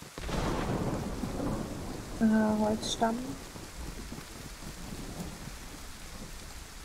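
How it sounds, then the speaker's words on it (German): Steady rain hisses and low thunder rumbles in the survival game DayZ, quiet and continuous, while a person speaks briefly over it and a short in-game chime sounds. "Ich mag den Regen irgendwie, den Sound gerade davon."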